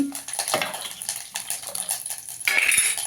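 Tomato saar gets stirred in a cooking pot, a close run of metal spoon scrapes and clinks against the pot with a liquid slosh, busy and continuous with no talk.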